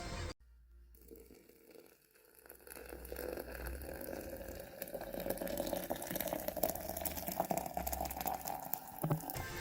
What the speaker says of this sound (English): we're gonna take out water and slowly pour that over our coffee